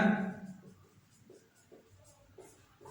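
Pen or chalk scratching out a volume formula for a cylinder during a maths lesson, a soft run of short strokes and taps, fairly faint, with no talking.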